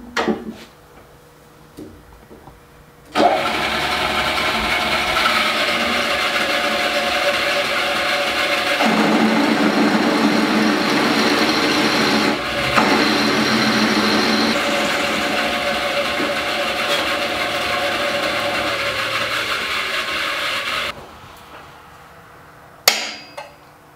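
A drill press bores holes through metal for a DIY blade sign hanger, a loud continuous grinding whir lasting most of the span with a shift in tone partway through, then stopping abruptly.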